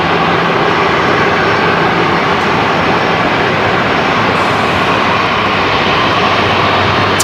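A Jetstar jet airliner takes off from runway 19 left at Brisbane Airport at sunset, a loud, steady, broadband engine roar that holds throughout.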